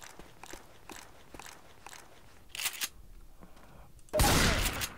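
Rifle reload from a video game, an M4A4: a string of quick mechanical clicks and clacks, a sharper burst midway, then a loud harsh blast of noise at the end.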